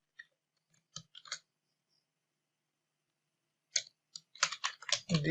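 Someone types on a computer keyboard, sparse quiet key clicks at first, then a quicker close run of keystrokes near the end.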